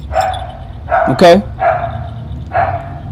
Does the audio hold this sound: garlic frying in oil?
no